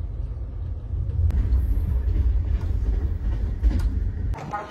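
A train rolls along steadily with a continuous low rumble and faint rattling of the carriage, with a few soft bumps and clicks.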